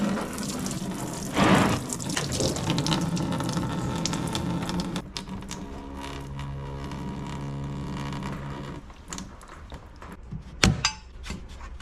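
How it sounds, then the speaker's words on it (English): Coolant drains out of a disconnected hose on a Duramax pickup during front-end repair work, a close trickling, splashing flow with a few sharp knocks and clanks, running steadily before tapering off. "I'm gonna drain the rest of the coolant out of this hose right here."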